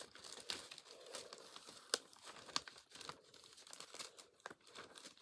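Plastic vinyl record sleeve being handled up close, soft crinkling and crumpling with a few sharper crackles and brief tearing-like rustles, quiet and intermittent, no talking.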